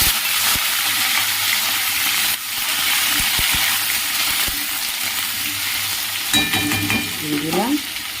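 Potatoes hit a hot pan with dried chillies and fry with a steady sizzle. A few sharp clacks of stirring cut through, and a brief hiss of liquid rises near the end. Nobody speaks.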